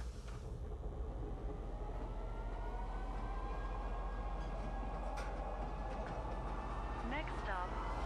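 A metro train arriving at the platform, a loud sustained rumble and rolling roar with rising squeals of brakes near the end.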